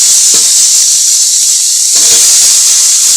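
Chopped onion goes into hot oil in a pan while a Bengali snake gourd curry is cooked, and the oil sizzles loudly and close. The hiss runs steadily throughout and surges briefly partway through.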